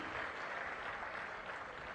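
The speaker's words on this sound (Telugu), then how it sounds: "గట్టిగా చప్పట్లు కొట్టి అభినందించండి." An audience applauds loudly at a public meeting, steady and continuous clapping from a crowd with no talk over it.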